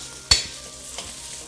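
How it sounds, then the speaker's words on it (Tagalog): A sharp clack of a utensil against the pot, then a quieter scrape, as fried kikiam is stirred into a pot of lomi soup, with low bubbling underneath. "So just mix it all."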